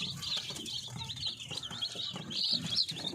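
Several chicks peep and chirp steadily at close range while drinking fresh water, high-pitched calls overlapping with a low background murmur throughout.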